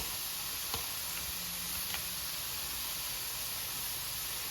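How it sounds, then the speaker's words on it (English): Soft, steady sizzling of mushrooms in a frying pan, a continuous faint crackle and hiss with a couple of tiny pops, no voices. "those just giving a little sizzle now"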